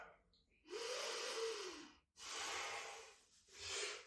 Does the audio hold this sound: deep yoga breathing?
yes